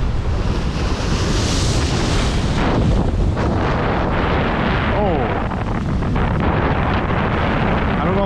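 Ocean waves crash on a rough Rhode Island shore, a loud, continuous roaring surge with heavy wind buffeting the microphone close by. The noise is broad and churning and never lets up.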